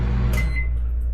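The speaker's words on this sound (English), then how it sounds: "Wonder why the microwave is making noise." Microwave oven running at a camping site, giving a steady low hum with a brief rattling clatter near the start, loud and close with no talking.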